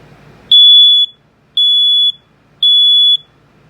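A modern First Alert home smoke alarm sounds its code 3 pattern: three loud, piercing, evenly spaced beeps, each about half a second, close to the mic with near silence between.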